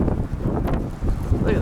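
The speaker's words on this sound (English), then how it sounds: "It's very windy." Strong wind gusts buffet the microphone during a January blizzard walk in Regina, Saskatchewan, producing a loud, steady roar with brief swells.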